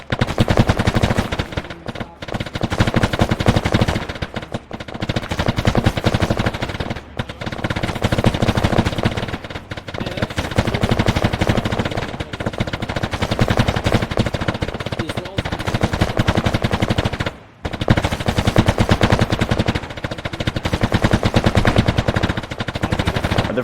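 Sustained rapid machine-gun fire in the video game Arma 3, loud and relentless, with only a few brief breaks in the stream of shots.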